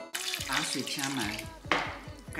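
Water pours into a pot of cracked tea eggs, covering them for braising, a steady splashing fill with clinks of the pot and a brief louder gush near the end.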